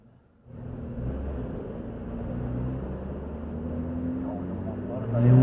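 A vehicle engine drones steadily from close by, heard from an e-scooter rider's position, with a low rumble that swells near the end; a person speaks over it.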